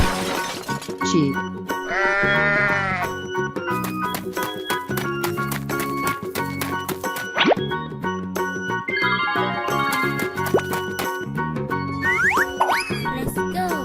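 Sheep bleats in a children's animal-sound sequence, heard over busy, loud cartoon music with bouncy boing-like effects and repeated cries throughout.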